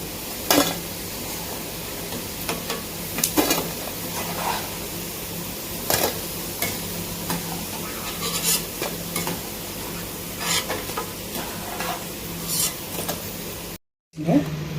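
Okra and gram flour snack batter frying in hot oil, a steady low sizzle running throughout with repeated brief stirring and scraping clatters of a utensil against the pan, close by and moderately loud, with no talking.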